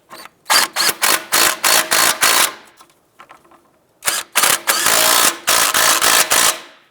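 A ratchet snugging down ball joint nuts on a 2001-2005 Honda Civic, close and loud, in two bursts of rapid, evenly spaced clicking separated by a brief quieter pause.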